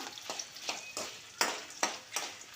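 Dry roasting of coriander seeds in a pan over a low flame: a handful of crisp scraping stirs and light rattles come in quick succession, close and fairly quiet, with no talk.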